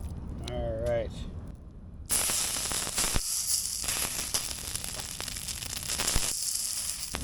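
Burger patty sizzling in a pan, a loud steady hiss that starts abruptly after a short stretch of a person talking, with occasional sharp pops and crackles.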